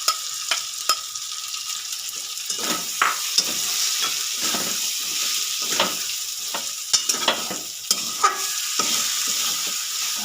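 Gobindobhog rice with cashews and raisins fries in a pan for a fish-head muri ghonto, with repeated scraping stirs cutting through a steady close sizzle and no voices.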